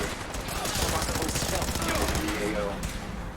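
Gunfire from gunners in Fallout 4 rattles in dense rapid bursts, fairly loud and continuous for a few seconds.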